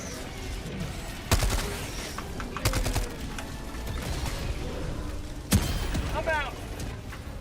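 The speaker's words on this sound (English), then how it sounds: "God, they're still mortaring me." Mortar explosions land in a video game battle: three sharp, heavy blasts at irregular intervals over a busy backdrop of game noise, with a voice talking in between.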